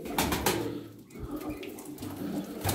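Pigeons at a bird-selling gathering in Darıca coo softly in short repeated low burrs close by, with a few faint flutters and background clatter.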